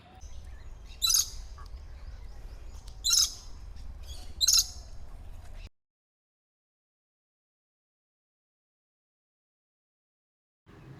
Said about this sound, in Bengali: পাখির ডাক আর জঙ্গলের নীরবতা